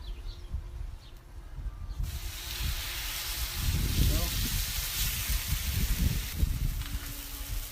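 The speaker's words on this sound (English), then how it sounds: "only thing we're gonna do with the steak is just cook it" A steak sizzles on a Blackstone griddle, a steady hiss that swells louder partway through as the meat cooks, with occasional pops and faint background clatter.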